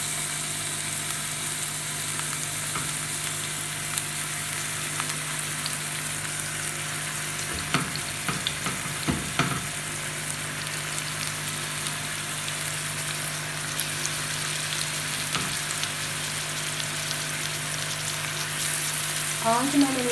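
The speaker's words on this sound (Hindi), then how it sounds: "अब जो मैंने कबाब बनाए थे इनको स्टेप बाय स्टेप रखूँगी।" Minced-meat keema tikki kebabs fry in oil over a medium flame with a constant soft sizzle, broken by a few clattering knocks as the patties are set in the pan.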